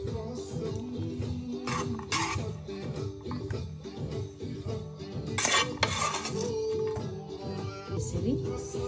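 Keema and chili are stirred in a pan with a metal utensil, giving repeated scraping clinks of metal on metal over a faint sizzle, close and moderately loud, while someone talks.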